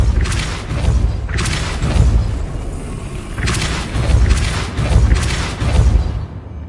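Repulso spell blasts in Hogwarts Legacy: a run of deep booming bursts, several heavy thuds clustered in two waves, loud and close, with a rumbling tail between them.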